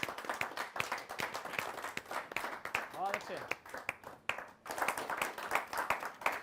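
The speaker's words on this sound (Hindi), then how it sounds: "तो आइए एक बार हम तालियों के साथ स्वागत करते हैं कविता तिवारी का।" Audience applause welcoming poet Kavita Tiwari at a Republic Day poetry gathering, a dense wash of clapping with sharp individual claps throughout, briefly thinning in the middle as a voice cuts in before the clapping swells again.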